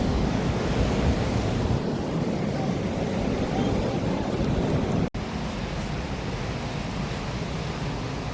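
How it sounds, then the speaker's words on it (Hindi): Clear, clean water of the Alaknanda river near Badrinath flows with a steady, loud rushing wash that fills the whole clip, with a single brief knock about midway and no talk. "ये है माता अलकनंदा का पानी, स्वच्छ और निर्मल।"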